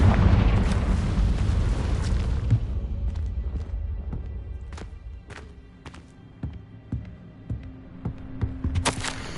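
A Confringo spell explosion in the Hogwarts Legacy video game: a loud, close blast at the start that fades into a rumbling tail, followed by scattered small thuds and taps.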